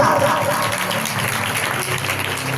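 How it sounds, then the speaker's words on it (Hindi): Loud, dense applause from a church congregation at a Bible teaching session, steady clapping filling the whole stretch with a faint voice under it at the start. "जोरदार ताली लगाओ, जोरदार ताली लगाओ"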